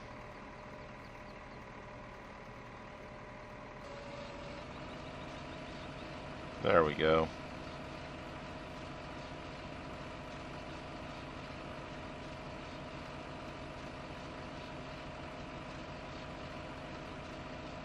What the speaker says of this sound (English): Now let's have the tractor drive.